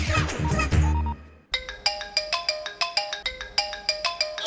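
A phone ringtone in a comedy film scene plays a repeating electronic melody of bright chiming notes after a brief burst of other sound at the start.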